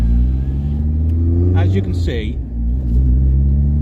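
Volkswagen Golf GTI Mk2 16v engine on a dyno, a steady loud low rumble that rises slightly in pitch, with someone talking over it throughout.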